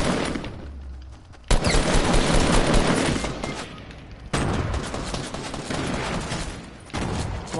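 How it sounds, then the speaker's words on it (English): Loud bursts of gunfire from a Fortnite match crack and echo in several volleys separated by brief quieter gaps, with sniper fire among the shots. "Watch out, you're getting sniped at."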